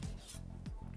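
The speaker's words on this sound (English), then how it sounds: "we're gonna just slice it, fine slices" Knife slicing mushrooms into fine slices, several quiet rasping cuts close by with short pauses between strokes.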